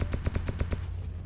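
A friend's gun firing in the video game Escape From Pripyat: a rapid automatic burst of about seven sharp, evenly spaced shots, close and loud, then cut off into a short tail of room noise.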